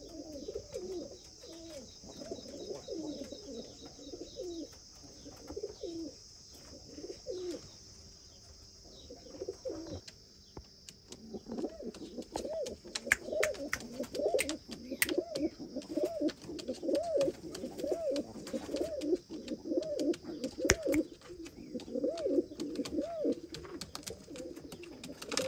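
A Nuska pigeon coos over and over in a steady, rolling rhythm, close and clear, with a thin high hiss running behind the calls and a brief lull partway through.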